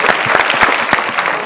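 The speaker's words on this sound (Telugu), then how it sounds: "ఒకసారి అందరూ రెడీ అప్లాజ్ గట్టిగా" Loud, continuous clapping from a studio audience on a Telugu TV game show, dense and steady throughout with no talking.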